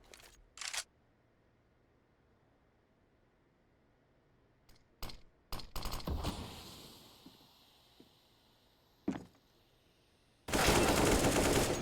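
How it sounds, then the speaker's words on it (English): Gunfire in the video game Counter-Strike on the Vertigo map comes as sharp isolated shots and short bursts, ending in a loud sustained volley, close and clear with no talk. "Shots from Nikki will get some dinks, but no frags"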